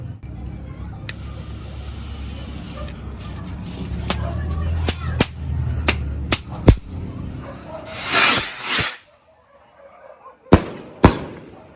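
A Bakunawa firework test fired outdoors crackles and whips with a string of sharp loud pops over a rushing hiss, swelling into a dense burst before two final cracks, with voices around.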